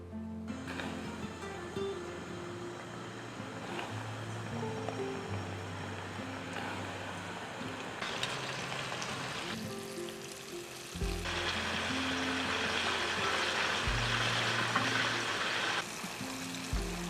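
King oyster mushrooms deep-fry in hot oil for a vegetarian kung pao dish, giving a steady, close, dense sizzle that swells louder partway through and keeps bubbling without pause.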